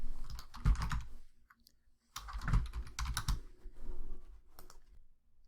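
Clusters of small plastic clicks at a computer desk during PeopleSoft search setup, two quick bursts separated by a short quiet gap, close and fairly soft.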